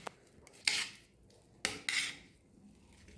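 Room-temperature but stiff butter being mixed with oregano, chili flakes and coriander leaves in a bowl, a spoon clinking and scraping against the dish in a few sharp, separate knocks with quiet pauses between.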